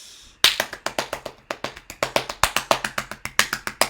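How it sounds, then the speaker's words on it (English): Hand clapping in a steady series of sharp, close claps, about two dozen in quick even rhythm after a brief quiet start, with no talk. "Clap, clap, clap."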